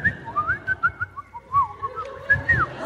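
Whistled bird-like calls in a short, repeated melodic series, moderately close, over a low background rumble.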